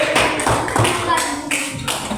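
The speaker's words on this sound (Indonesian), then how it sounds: "Tepuk tangan lagi Pak" Hands clapping in a classroom, a quick run of sharp claps from a small group, fairly close, with voices talking over them.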